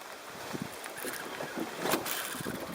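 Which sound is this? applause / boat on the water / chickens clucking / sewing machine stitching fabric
boat on the water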